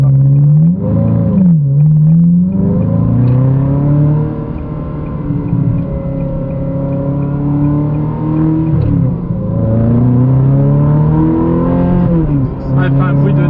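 A Ferrari engine pulls hard while driving, revving up through the gears with loud rising and falling harmonic sweeps. It stays close and continuous from start to finish, with brief dips between gear changes.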